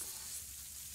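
Food frying in a pan in Ale and Tale Tavern gives a steady, bright sizzling hiss for about a second, even and unbroken with no talking.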